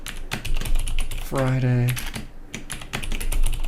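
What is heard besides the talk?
typing on a computer keyboard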